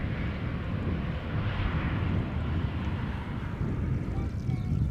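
Airliners departing in parallel from Schiphol give a steady, deep, distant engine roar that holds level throughout, with faint wind in the background.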